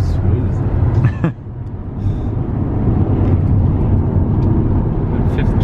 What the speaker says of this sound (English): Fifth gear and it freaking wants to go.